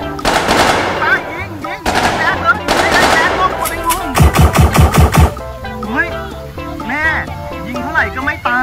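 Rapid machine gun fire in a video game with dinosaurs and monsters, a tight burst of evenly spaced loud shots lasting about a second, surrounded by game music and excited talk.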